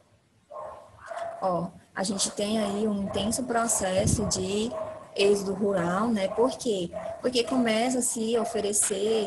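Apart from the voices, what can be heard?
dogs barking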